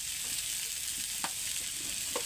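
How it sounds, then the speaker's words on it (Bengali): Potol (pointed gourd) and paneer curry sautéing in a pan with little oil and spice, a continuous close sizzle broken by a few sharp stirring scrapes and clinks. "এখন প্রায় 2 থেকে 3 মিনিট আমরা একটু কষিয়ে নিই।"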